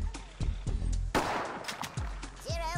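A sharp gunshot blast cuts through a busy stretch of Worms 4 game sound effects, with quick whooshes and tonal blips around it.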